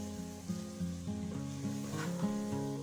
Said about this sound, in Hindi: 2 से 3 मिनट मैंने इसको मिक्स कर लिया चनों को मसालों में